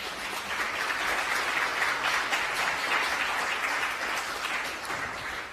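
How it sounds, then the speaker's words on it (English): A pitch day audience bursts into sustained, dense applause that stays loud and steady throughout, a wide wash of many hands clapping together with no voices standing out. "let's give everyone a round of applause once again"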